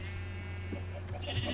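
Minecraft sheep bleating in short nasal cries over a constant low electrical hum, fairly close and clear, with no talk.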